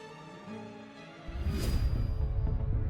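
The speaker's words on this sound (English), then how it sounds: "this is the sound of a solar storm crashing into our atmosphere" A recorded solar storm striking Earth's atmosphere gives a sustained tonal hum with layered, wavering pitches, then swells into a louder, rushing roar that builds and holds to the end.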